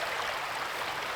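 A creek runs over rocks with a steady, close, even rushing wash, quiet and unbroken, heard from a spot in the middle of the stream.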